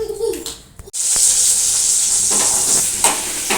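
Onions for a mutton curry sautéing in a pan: after a brief stir, a loud continuous sizzle and crackle of frying fills the air, heard close up with a few scraping stirs.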